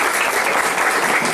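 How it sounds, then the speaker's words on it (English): An audience claps steadily and fairly loudly at a business talk, a dense, even patter of many hands with no voices over it. "I think we can clap hard, no problem."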